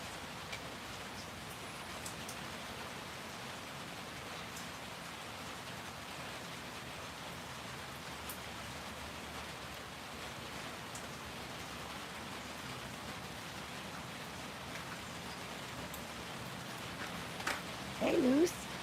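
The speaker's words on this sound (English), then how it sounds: "it's raining outside" Morning rain falls outside as a steady, even hiss of drops on surfaces, continuous throughout, with a brief bump near the end.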